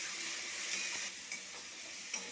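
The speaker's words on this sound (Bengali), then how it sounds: "মশলাটাকে আমি ভালোভাবে কষিয়ে নেব" Spice paste sautés and is stirred in a pan for chicken kosha, a soft, steady sizzle with light scraping strokes of a spoon, faint and close.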